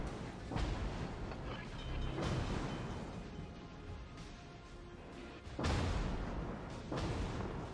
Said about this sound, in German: jetzt werde ich beschossen